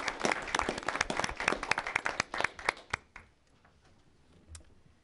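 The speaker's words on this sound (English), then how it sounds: "if we could just give another round of applause to our excellent public safety" Applause at a city council meeting honoring public safety staff, brisk clapping from a modest crowd that thins out and fades after about three seconds, leaving near silence and one late clap.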